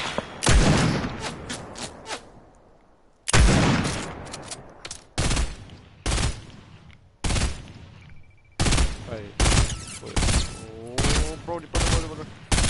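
Video game assault rifle fire in repeated short, sharp bursts with gaps of quiet between them, fairly loud and close, with a voice talking over parts of it.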